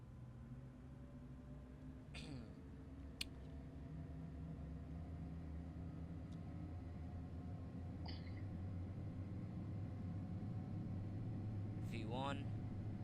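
Jet airliner engines run at full takeoff throttle in the FSX flight simulator, a steady low roar that swells slightly over time, with a few faint brief vocal sounds.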